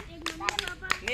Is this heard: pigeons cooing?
no